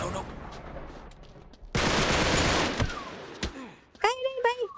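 Gunfire in Uncharted 3: Drake's Deception: a loud burst of rapid shots followed by a few sharp single cracks, with a voice talking over the end.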